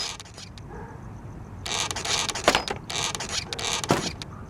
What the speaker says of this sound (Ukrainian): Витягуємо усі цвяхи.